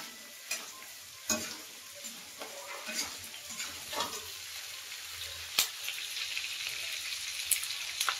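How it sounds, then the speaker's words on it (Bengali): Capsicum and onion frying in a pan for fried rice, a faint continuous sizzle with scattered stirring taps and scrapes, close and quiet with no voices. "এটা ভেজে নেওয়া হবে।"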